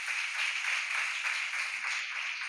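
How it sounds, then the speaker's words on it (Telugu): A congregation claps loudly during Sunday worship in a prayer hall, a dense, sustained wash of many hands with no pauses. "ఒకసారి చప్పట్లు కూడా దేవుని నామాన్ని మహిమపరచుదాం గట్టిగా"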